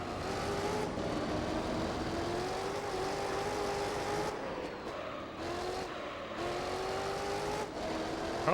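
Race cars in Gran Turismo 3: A-Spec drone along together, with engine tones that rise and fall as the cars shift and jostle close by. The sound runs steadily with a few brief dips and no talk.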